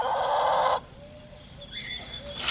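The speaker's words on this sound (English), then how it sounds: "Yes, chicken." A backyard garden chicken clucking softly, a few brief, faint calls following a short burst of louder noise at the start, quiet outdoor ambience around it.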